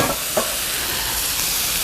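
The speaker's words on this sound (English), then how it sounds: "noodles and I just place them right on the grill" Yakisoba noodles sizzling on a hot catering grill, a steady loud broadband hiss with a brief stirring scrape near the start, no voices.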